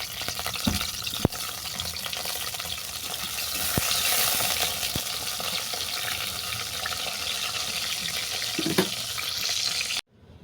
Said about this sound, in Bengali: প্রথমে বেগুনটাকে ভেজে নিচ্ছি